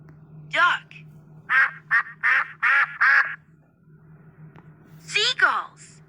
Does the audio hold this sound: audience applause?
no